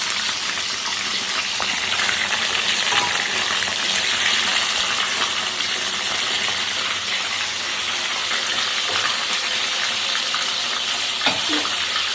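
Bombay duck (lote fish) pakoras frying in hot oil give a steady, loud, close sizzling hiss that runs unbroken for the whole stretch, with no talking over it.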